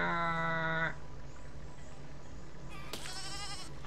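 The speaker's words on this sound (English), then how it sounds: "It's a pesky little sheep." A single loud bleat from a sheep in the video game Besiege, a sharp wavering cry followed by a quieter gap and a second bleat near the end, over low game ambience.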